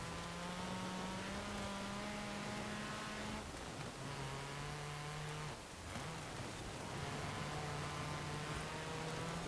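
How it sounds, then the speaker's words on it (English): A torquey rally car engine drones steadily as it climbs a snowy hill stage in Forza Horizon 4, holding a sustained revving tone with brief dips at gear changes, loud and continuous. "This torquey engine is helping us up this hill climb area."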